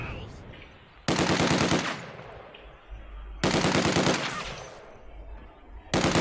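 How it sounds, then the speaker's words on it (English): Machine gun fire in Company of Heroes 2, three sustained rapid bursts of about a second each separated by quieter pauses, loud and close, with a low rumble between bursts. "oh wait, this is a machine gun, we're supposed to fire it, right!"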